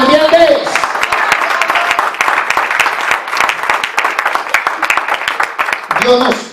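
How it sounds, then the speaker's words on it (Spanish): Church congregation applauding during a Spanish-language sermon, dense steady clapping from many hands, loud and close, framed by a preacher's voice just before and just after. "Dale un aplauso a Dios si tú lo entiendes."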